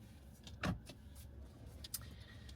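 Car cabin sound while driving, a low steady road rumble with a brief thump and a few faint clicks and rattles inside, no talking.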